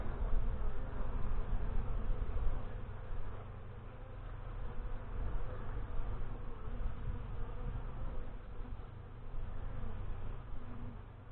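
Honey bees buzz steadily throughout an end-of-April hive inspection, a dense, continuous drone close by with gently swelling and easing loudness and no talking.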